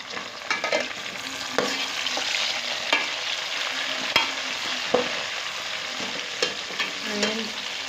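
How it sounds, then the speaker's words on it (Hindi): Tomatoes tipped into a pan of onions fried golden, sizzling steadily, with the spoon scraping and clattering now and then. The frying is close and fairly loud, and nobody speaks. "अब इसमें टमाटर मैं डालूंगी।"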